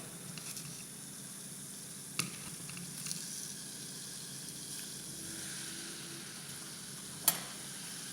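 Food-grade citric acid added to liquid sets off a soft, steady fizz of rising bubbles, a faint continuous hiss with a couple of small ticks, heard alone at low level.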